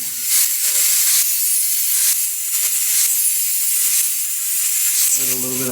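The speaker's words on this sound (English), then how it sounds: "I'm going to go ahead and grind them with the grinder, with the Makita." A Makita grinder fitted with a 40-grit disc grinds braces inside a subwoofer box, giving a loud, continuous abrasive roar that swells and eases slightly as pressure shifts, with no talking.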